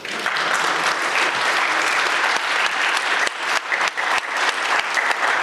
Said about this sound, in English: you should give yourself a round of applause